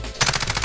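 A short, rapid burst of automatic gunfire in Fortnite, close and loud, several quick shots in a row.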